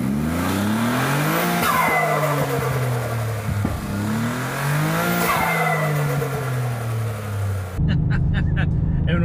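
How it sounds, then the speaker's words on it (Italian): A Toyota Yaris GR with Stage 2 tuning revs repeatedly: two strong, rising and falling throttle blips with loud intake roar, heard up close, followed by a brief idle. "Adesso ho preso il vizio di fare queste piccole acceleratine ogni volta per sentire l'aspirazione, perché mi piace troppo."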